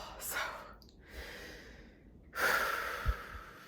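Controlled breathing while getting into a cold plunge: a few audible breaths and sighing exhales, with a stronger, louder exhale near the end and a soft low thump, close to the mic.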